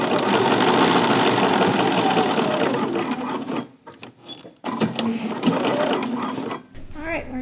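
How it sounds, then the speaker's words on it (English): A serger runs loud and close, overlocking the edges of coat lining pieces in a continuous mechanical whir, stops briefly, restarts, then slows near the end. "just going to serge all the way around these lining pieces"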